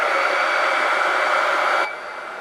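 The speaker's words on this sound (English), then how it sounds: "I'm going to hit this with the hairdryer" A hair dryer blowing steadily and loudly at close range onto a damp washcloth, a continuous airy roar that drops to a quieter hiss near the end.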